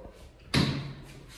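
A bathroom door swings shut with one sharp, loud slam and a ringing thud that fades over about half a second, heard close up with quiet room noise around it.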